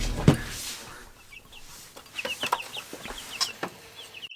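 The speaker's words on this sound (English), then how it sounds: "chickens." Young chicks cluck in a few scattered, soft calls with quiet pauses between them, close by in a calm indoor space inside a house.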